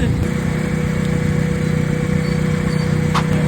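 A car's engine runs after being started following a repair for a loose hose, a steady close rumbling idle with a light buzzing whine throughout.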